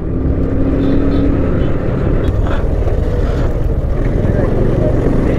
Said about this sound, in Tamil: இங்கே பாருங்களேன், ஃபுல்லாக டிராஃபிக்குங்க.